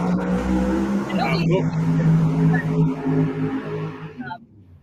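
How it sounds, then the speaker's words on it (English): A drag car makes a run at a racing event, its engine note climbing in rising tones at a distance, then fading away toward the end. "A drag car just decided to make a run behind me"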